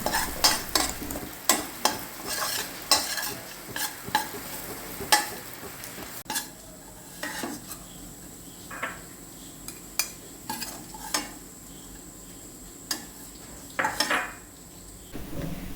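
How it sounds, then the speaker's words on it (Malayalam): A spatula scrapes and taps repeatedly in a pan as ground jackfruit seeds roast with a soft sizzle, with irregular clinks and stirring strokes throughout. "ആ പൊടിച്ചു വെച്ചിരിക്കുന്ന ചക്കക്കുരുവും കൂടി നമുക്കൊന്ന് വറുത്തെടുക്കാം"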